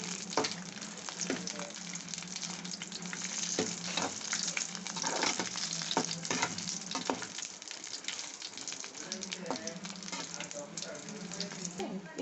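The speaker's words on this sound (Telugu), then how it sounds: "నూనె కొంచెం సలసలం అనేటప్పుడు ఎండుమిర్చి వేసుకుని వేయించుకోవాలండి" Dried red chillies fry in hot oil for gongura chutney, giving a steady close sizzle with scattered crackles and pops that runs throughout.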